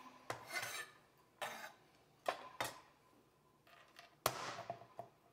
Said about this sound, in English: I do use my smasher to make the mincing of my carrot, my garlic a lot easier